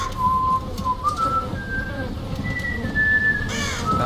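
A thin, wavering whistled tune in the Game of Thrones video game plays in short rising and falling notes, clear and fairly close over a low background murmur.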